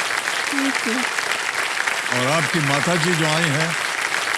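Loud studio-audience applause for a contestant on the Hindi quiz show Kaun Banega Crorepati, a steady broadband wash of clapping with a voice speaking over it.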